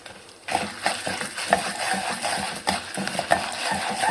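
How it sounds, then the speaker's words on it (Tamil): Dal fries in oil in a pan until golden while a spoon stirs it, making repeated scraping and clattering strokes over a soft, steady sizzle, close and moderately loud, with no talking. "இந்த பருப்பு நல்லா பொன்னிறமாக வர வரைக்கும் எண்ணெயில் வதக்குங்க"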